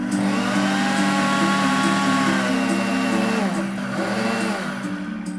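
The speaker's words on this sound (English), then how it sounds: "generally it's gonna take level 6 for about 30 seconds, but you'll probably need to stir it, blend it, maybe even pulse it a little bit" Blender whirring steadily as it purees cauliflower mash with garlic powder, a loud continuous motor drone with a faint dip in pitch near the end, no voices.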